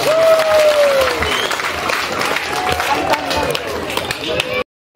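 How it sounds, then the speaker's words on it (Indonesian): Applause from a crowd gathered at an outdoor political campaign event, a post opening and team inauguration in Ayamaru Selatan, Maibrat, sustained and loud with voices mixed in, cutting off abruptly near the end. "Tepuk tangan buat kalian semua."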